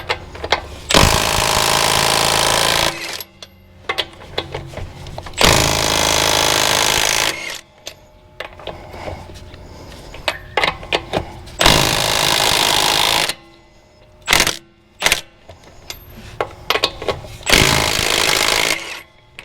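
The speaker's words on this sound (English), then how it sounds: "So let's try our fuel ratchet, or our fuel impact wrench." A Milwaukee M12 Fuel impact wrench removes lug nuts in several long, loud, rattling bursts of a few seconds each, broken by short pauses and clanks between runs.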